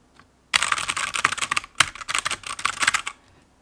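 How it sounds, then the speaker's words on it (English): Fast typing on a budget mechanical keyboard with a braided USB cable and a metal section, a dense run of crisp close key clicks and clacks after a short quiet start, going on steadily for about three seconds. "This is the speed I type,"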